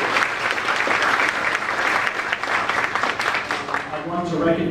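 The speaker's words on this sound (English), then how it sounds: "Please give her a round of applause." Dense, steady applause from a school audience at a meet-and-greet event, many hands clapping at once for the whole stretch with a faint voice surfacing near the end.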